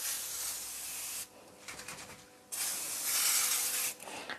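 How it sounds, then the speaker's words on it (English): Anti-static foaming cleaner sprayed from an aerosol can onto a stairlift rail, close hissing bursts, one long spray, a pause with faint rubbing, then a second longer spray. "I'm going to spray the lift. So this is anti-static foaming cleaner."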